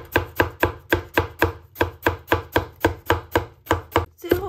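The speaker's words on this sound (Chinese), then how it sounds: "接着再给它切成莲藕丝" Fast, steady knife strokes cut lotus root into fine shreds on a board, a dozen or more sharp, regular taps in quick rhythm, close and clean with no voices.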